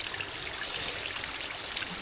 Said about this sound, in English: There's water coming down.